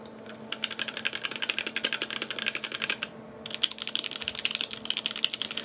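Fast, continuous typing on a Viktus Deltablade mechanical keyboard with a brass plate and KS3 switches gives crisp, clacky keystrokes in dense runs, close and loud, with a brief pause midway.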